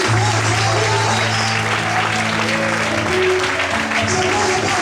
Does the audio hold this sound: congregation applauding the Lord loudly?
yes